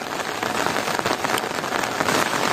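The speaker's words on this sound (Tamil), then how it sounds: "பழனிக்குள்ளே இவ்வளோ மழை பெய்யுது." Heavy rain pouring in Palani on an early morning, a dense, steady hiss of drops drumming on surfaces, close and unbroken throughout.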